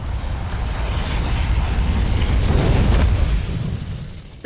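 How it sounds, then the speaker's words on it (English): The sun explodes in the video game Outer Wilds, heard as a loud, sustained, swelling roar with deep rumbling that builds to a peak and then slowly fades. "We'll fly into the sun's explosion."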